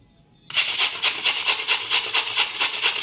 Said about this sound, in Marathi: हे आवळे जे आहेत ते असे किसून घेणार आहे